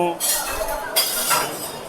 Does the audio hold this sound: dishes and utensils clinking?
yes